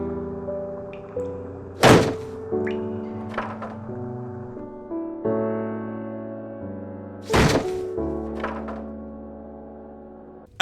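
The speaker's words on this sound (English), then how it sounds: "turn furniture into planks of wood with one click" Furniture breaks into wooden planks in the Dracula 2: The Last Sanctuary video game, with a few sharp wooden thunks and cracks standing out over sustained background music.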